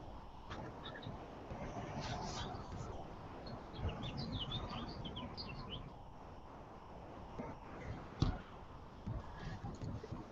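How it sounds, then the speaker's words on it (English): Birds chirp and tweet outdoors in short, scattered calls, moderately faint over a steady bed of outdoor background noise, with a brief louder knock near the end. "Can hear birds chirping and everything behind you."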